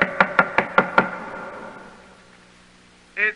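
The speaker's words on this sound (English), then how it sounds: "knock on the door." Six quick, evenly spaced knocks strike a house door close by, followed by a quiet pause and then a brief, louder noise at the very end.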